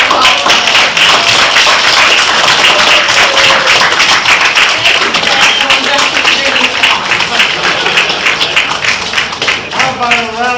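An audience claps at a community monthly forum: dense, continuous applause with crisp rapid hand claps, loud and close, fading slightly toward the end while voices are heard underneath.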